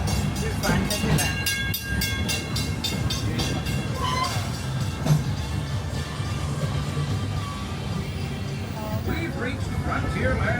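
Walt Disney World Railroad train pulling into Frontierland Station at Magic Kingdom, a steady rumble of rolling cars with faint whistle tones over background chatter and park ambience, continuous at moderate loudness.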